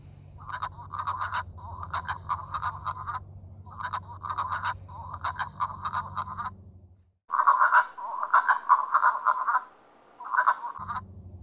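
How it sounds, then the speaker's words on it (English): Wood frogs at a vernal pool give rapid, duck-like clucking calls in repeated bursts, steady and fairly close, with a brief pause before a louder run of calls. "Do you remember what wood frogs sound like, friends? Let me play you their call."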